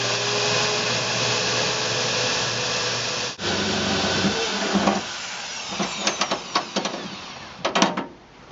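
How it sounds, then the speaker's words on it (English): Self-tapping screws driven into thin truck bed sheet metal with a power drill, a sustained whirring drive that stops, followed by several short sharp clicks and taps. "now it's time for me to drill those self-tapping screws in"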